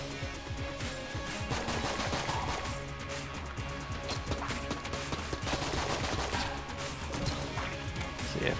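The gunslinger's starter weapon in Enter the Gungeon fires as rapid, repeated sharp shots that keep coming steadily throughout. They sit under busy game music and effects.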